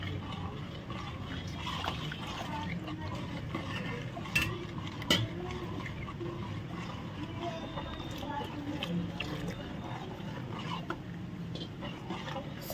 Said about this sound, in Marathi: सारखं हलवत राहायचे